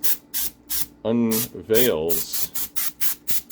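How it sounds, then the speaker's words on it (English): Compressed air blasts in short, sharp hissing bursts over a freshly painted pinball machine, about nine evenly spaced puffs close by, with someone talking briefly between them. "Compressed air"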